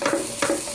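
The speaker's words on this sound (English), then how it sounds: "we're just very quickly stir frying these vegetables in the oil" Vegetables stir-fry in hot oil, with a bright sizzle and two quick bursts of tossing or stirring over a steady hiss.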